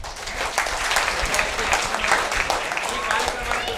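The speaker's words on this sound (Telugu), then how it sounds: "మీ అందరి చప్పట్ల ద్వారా" Applause from students and staff at a peace and humanity constitution event, a dense crowd clapping steadily at moderate volume, with a voice talking over it at times.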